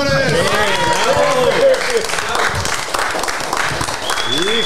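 A group of people applauds loudly at a gathering while others talk and laugh over the clapping, and the noise stays close and continuous throughout.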